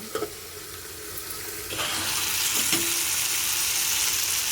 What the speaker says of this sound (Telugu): చింతపండు కూడా వేసేస్తున్నానండి ఇవి టమాటాలు బాగా మగ్గాలండి అందుకే మూత పెట్టేస్తాను